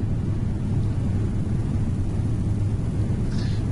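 Airbus A321 taking off in Flight Simulator X, a steady loud engine roar with rumbling low end that holds constant throughout, no voices over it.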